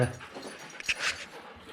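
A dog panting and whimpering softly inside an abandoned uranium mine, short and faint, with small shuffling noises and a person's voice nearby.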